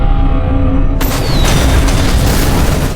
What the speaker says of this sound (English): shouldering a rocket launcher.